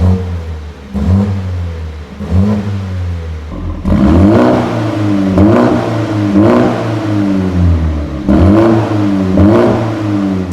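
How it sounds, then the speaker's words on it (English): A BMW hot hatch with a Milltek OPF-back valved exhaust, revved repeatedly while stationary, each blip rising and falling in pitch in a regular rhythm, loud and close with a steady idle between revs, no talk. "give it a quick rev and show you what the Milltek OPF back sounds like"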